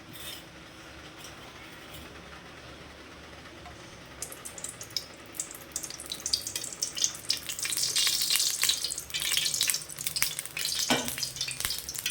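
Oil goes into a hot, dry pan and starts to crackle and sizzle, the frying noise rising from quiet to a steady, close, busy spatter.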